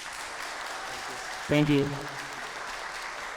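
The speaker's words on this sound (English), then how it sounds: "I'd like to ask big applause for SHERKHAN." An audience at a software developer conference talk applauds the presenter, a steady, moderately distant wash of clapping under which a voice briefly speaks.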